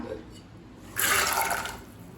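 Water splashes and gurgles steadily into a cooking pot of soaked white peas for about a second, close by, against a quiet background hum.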